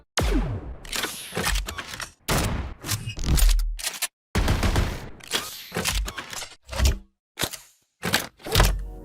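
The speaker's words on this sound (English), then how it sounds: "He also created sound design for all the weapons." Weapon gunfire from an indie sci-fi FPS game, a run of loud, close bursts of crackling shots and single cracks separated by brief silences, with no talk over them.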